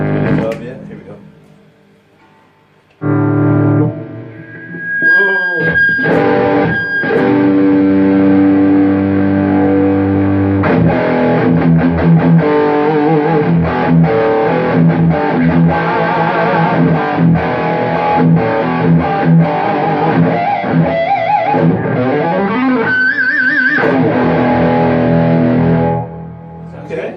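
A handcrafted rosewood Les Paul electric guitar played through an amp, distorted chords and riffs ringing out loud and sustained after a quiet opening, with brief pauses between phrases.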